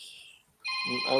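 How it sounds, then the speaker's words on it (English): A mobile phone ringtone sounds briefly: a high electronic tone, a short gap, then a louder, fuller melodic ring close by, with some voice mixed in. "That's my phone. Hold on."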